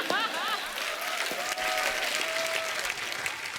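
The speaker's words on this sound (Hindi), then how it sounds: "500 लोग तालियां बजा रहे हैं" Large audience of about five hundred people clapping at a comedy show, a dense, lively burst of applause with cheering voices and a short sung or whistled tone rising above it.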